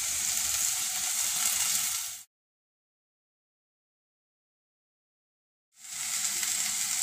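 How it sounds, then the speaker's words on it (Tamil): Onion, tomato, ginger garlic paste, coriander and mint sizzle and fry in a pan for a vegetable kurma, a steady close hiss that cuts out to silence midway and then resumes. "வெங்காயம் தக்காளி இஞ்சி பூண்டு கொத்தமல்லி புதினாலாம் நல்லா வதங்கிடுச்சு"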